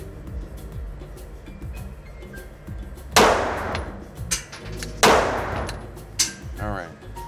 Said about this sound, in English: And I'm gonna take 3 shots to see.